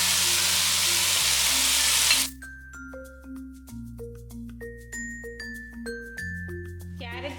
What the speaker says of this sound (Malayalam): ഇനി എടുത്തു വെച്ചിരിക്കുന്ന ഗ്രേറ്റ് ചെയ്ത ക്യാരറ്റ് ഇതിലിട്ട് നല്ലതുപോലെ വഴറ്റിയെടുക്കാം.